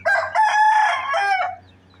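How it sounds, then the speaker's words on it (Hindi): A rooster crows outdoors in a loud, close cock-a-doodle-doo that rises and holds for about a second and a half, then breaks off into quiet. "ये मुर्गा जो है ना अपनी अजाने दे रहा है।"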